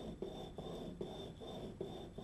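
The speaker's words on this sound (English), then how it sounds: "Let's leave Manvi and Vinaya to fine grind" Rhythmic rasping strokes of glass telescope mirror blanks being fine ground against each other, repeating about every half second with steady scraping texture and a faint high tone, no talking.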